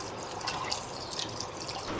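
Rice being washed by hand in water gives a close, continuous swishing and dripping slosh with small splashes throughout the short stretch.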